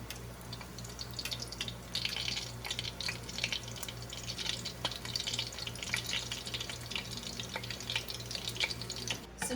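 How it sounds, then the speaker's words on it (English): Continuous crackling and sizzling of tortillas frying in hot oil, with bursts of spattering pops throughout and a faint low hum beneath. "now we're going to grab our tortillas and start frying"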